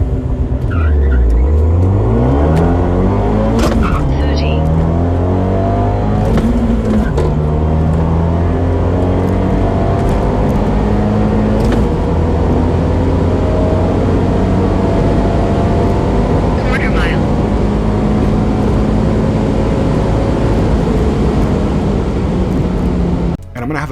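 An Abarth 124 Spider on a quarter-mile drag run, engine revving hard through rising gear sweeps, loud and close throughout, with a voice talking over it.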